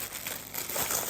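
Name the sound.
opening a delivered cardboard parcel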